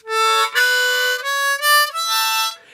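A beginner plays a harmonica, sounding a short run of held reedy notes with neighbouring holes bleeding in, uneven breaths separating each tone, loud and close with no talk.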